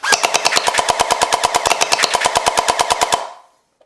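A gel blaster firing full-auto, a rapid even burst of about two dozen sharp shots lasting around three seconds, then a short mechanical whir and silence.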